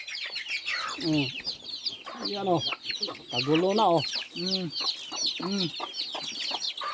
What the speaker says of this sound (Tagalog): Kaya mo mga manok.